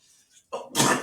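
A single sharp sneeze bursts out, preceded by a brief faint intake of breath.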